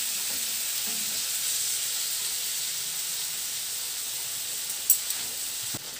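Three carrots frying in a skillet, a steady close sizzle and hiss of oil running throughout with a couple of brief clinks near the end.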